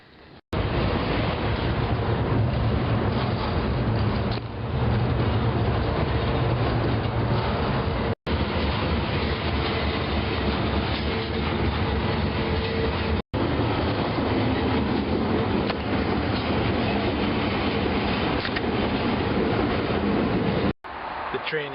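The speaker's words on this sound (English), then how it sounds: "The train is stopped for some apparent reason next to the interstate." A freight train standing beside an interstate, heard up close as a loud continuous rumble and rolling rail noise with metallic clatter, filling the whole stretch with brief dropouts, and no clear voices.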